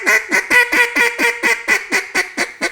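Hand-blown duck call imitating a finer, younger duck: about a dozen quick, loud, nasal quacks in a steady, fast rhythm, close and alone.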